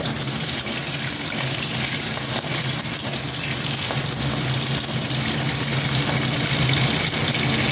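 Whole garlic cloves frying in a pan with halved onions and chopped garlic for masala chicken, giving a steady, loud, continuous sizzle and crackle with no talking.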